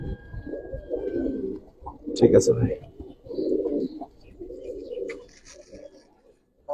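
Giribaz pigeons coo in a loft, several soft rolling coos rising and falling through the stretch, with someone speaking briefly partway through.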